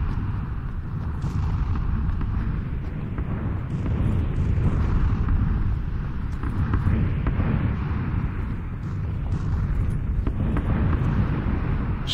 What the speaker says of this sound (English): Look at the explosions going off.